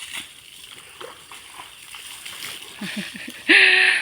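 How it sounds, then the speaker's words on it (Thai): Elderly elephants bathing throw and splash water, giving scattered wet sloshes and then a loud, close splash burst near the end, with voices faintly in the background. "ควันยังสาดน้ำอยู่นู่นเลย"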